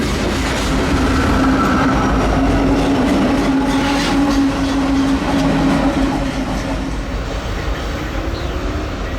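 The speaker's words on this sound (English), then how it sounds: "the DPUs of the oil train had to pass, made up of an Ace and another Gevo" Oil train rumbling past at close range with its mid-train DPU locomotives, an Ace and a Gevo, in Galesburg, Illinois; continuous heavy wheel roar with clickety-clack and faint squeals throughout.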